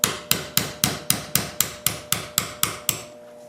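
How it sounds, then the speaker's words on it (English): About a dozen evenly spaced hammer blows drive a 1/8 inch roll pin punch to knock a pin out. The sharp metallic strikes are close and loud and land in a quick, steady rhythm before stopping. "I'll take my 1/8 inch roll pin punch and I'll punch the pin out."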